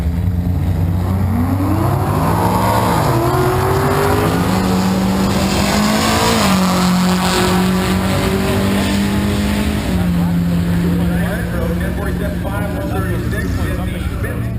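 A Ford drag racing car at the NMRA Spring Shootout, Bradenton Raceway in Florida, roars loudly down the strip, its engine pitch climbing through gear changes and then holding a steady howl.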